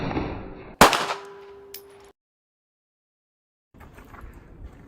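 One loud, close gunshot firing a 147 grain jacketed hollow point round at about 1,000 feet per second, with a short ringing decay, a faint later clink, then silence and low outdoor noise.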